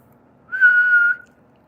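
A person whistles one clear, steady note lasting under a second, close and fairly loud against a quiet background.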